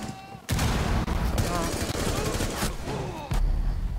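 Frag grenade exploding in the Rainbow Six Siege video game, a loud, sustained burst of blast noise with heavy low rumble that swells and crackles over several seconds amid game sounds.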